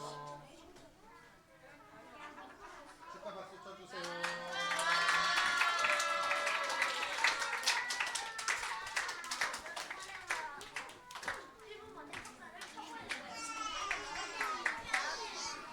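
Children at Sunday school clap together for a birthday, a bright, lively burst of many small hands that starts after a few quiet seconds and keeps going, mixed with excited young voices and cheering.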